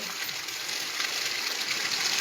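Water rushes steadily past in a village during the first monsoon rain in Malwa, a continuous close, bright gushing wash with no pause or voices.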